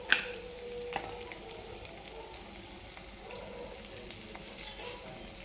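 Cashews and dried red chillies frying in oil for semiya upma give a soft, steady crackle and sizzle, faint and close, with a single sharp tap near the start and a few light clicks.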